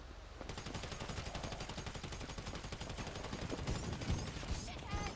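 Dense, continuous automatic gunfire fills a GTA Online mission shootout, rapid rattling bursts layered over one another with heavy, loud thumps throughout.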